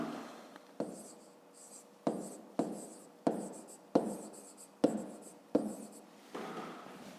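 A pen writing on paper while working a school maths exercise: about eight quiet, rhythmic scratching strokes, each starting sharply and fading, with no talk.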